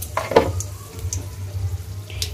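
Fennel seeds, whole cumin, a dried chili and a bay leaf hitting hot oil, giving a soft steady sizzle with a few sharp crackles and pops, close and alone.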